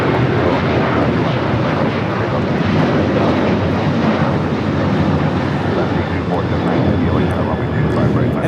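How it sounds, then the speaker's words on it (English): An Alaska Airlines Boeing 737-900ER takes off from Los Angeles airport with a constant, loud, rumbling jet roar and wind-buffeted noise lasting throughout, steady from start to finish. "this is Alaska Airlines 1430 taking off to Puerto Vallarta on the 737-900ER"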